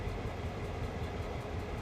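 A GP38-2 diesel locomotive in Train Sim World 2020 runs at night with a constant heavy rumble and rail roar, steady and close with no voices over it.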